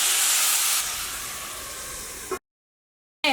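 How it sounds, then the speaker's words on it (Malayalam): Water sprinkled into a hot pan with pumpkin bursts into a loud steamy hiss that quickly fades, then cuts off briefly before returning. "ഇച്ചിരി വെള്ളം ഒന്ന് തെളിച്ചു കൊടുക്കുന്നുണ്ട്"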